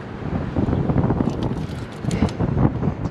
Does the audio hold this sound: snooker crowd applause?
no